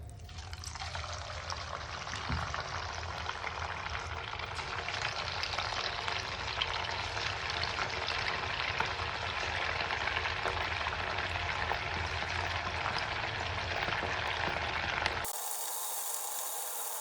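Chicken 65 pieces fry in hot oil with a loud, continuous crackling sizzle and bubbling that holds steady for the whole stretch before cutting off abruptly near the end.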